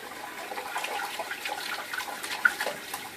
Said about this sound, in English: I'm washing all that lather out of my bowl, tilting the bowl over to the side a little bit so that a lot of the water splashes out.